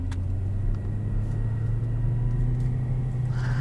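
Low steady engine rumble and road drone from a 2021 Aston Martin DBX cruising on the road, heard from inside the cabin, even and moderate throughout.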